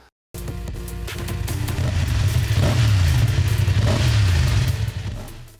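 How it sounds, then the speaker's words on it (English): After a brief silence a BMW F 900 motorcycle engine starts up loud and close through a titanium sport exhaust, revving with a deep throbbing note that rises and falls before easing off. "enhances the distinct sound profile of this crankshaft design"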